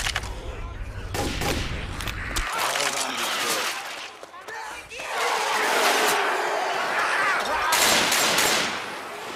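Rapid gunfire rings out in the Left 4 Dead 2 video game, dense bursts of shots running through most of the stretch with brief lulls, while players talk over the shooting.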